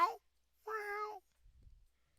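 A cat meows in the Wizardry 6 video game, in the Wizard's Lair: a short meow, then a longer drawn-out one, followed by a faint low rumble.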